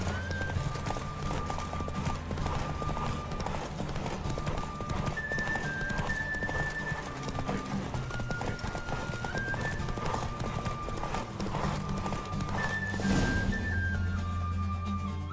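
Horse hooves clip-clopping at a gallop in The Witcher 3, a steady rhythmic beat under game music with sustained tones, a neigh breaking through near the end.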